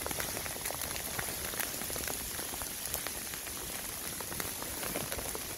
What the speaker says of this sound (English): in the rain we've got very small bits of ice coming down as well